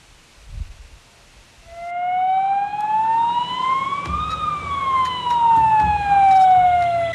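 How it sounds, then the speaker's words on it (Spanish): A neighborhood anti-theft alarm siren installed by residents in Trujillo starts after a short quiet stretch and wails loudly and continuously, its pitch sweeping slowly upward and then falling back down. "ellos han instalado una sirena y también megáfono"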